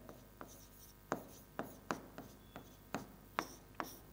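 Marker or chalk strokes on a classroom board while writing the word light, a series of about ten short scratchy strokes in irregular rhythm, close and clear with no talking.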